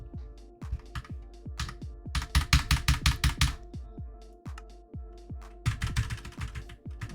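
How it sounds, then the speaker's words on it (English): Fast, loud computer keyboard clatter during Minecraft play, with repeated sharp keystroke bursts in uneven rhythm over a low hum, flurries of rapid taps separated by brief lighter pauses. "Why is my keyboard breaking?"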